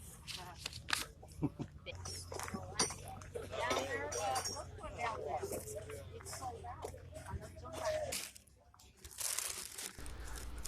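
A plastic bag holding a batch of PC games crinkles and rustles at a flea market, with soft clinks and handling noises under nearby talk and background chatter.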